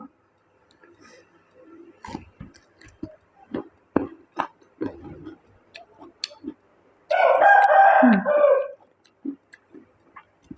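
A rooster crows once, loud and close for about two seconds near the end, with scattered clucks and light ticking around it and someone talking over the rest while preparing sour mango with northern-style chili dip.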